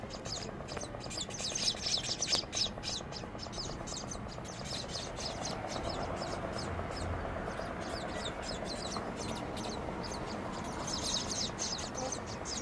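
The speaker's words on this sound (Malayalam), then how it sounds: "ഞങ്ങളുടെ ബാൽക്കണിയിലെ കിളിക്കൂടാണ്. അതിനകത്തുനിന്ന് ഇപ്പം നല്ല രീതിയിൽ കുഞ്ഞുങ്ങൾ കരയുന്നുണ്ട്" Baby birds in a nest on a home balcony cry with rapid, high-pitched chirping bursts that repeat in clusters, near and fairly clear over a soft background hum.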